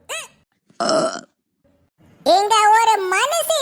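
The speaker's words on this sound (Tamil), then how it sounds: "விக்கலும் ஏப்பமும் சேர்ந்து வருது." An animated cartoon character lets out a few burps, short ones first and then a long, drawn-out, voiced belch, loud and close with silence between.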